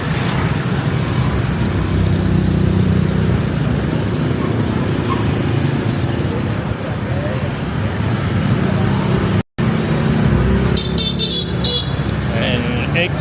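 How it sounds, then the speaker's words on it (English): Dense motorbike street traffic in Vietnam, a loud, steady close roar of engines with horn toots breaking through near the end. "Where did all this motorbike come from"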